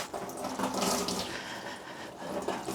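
Running water pours steadily off vacuum cleaner parts being rinsed under a tap, a continuous close splashing hiss that swells and eases slightly.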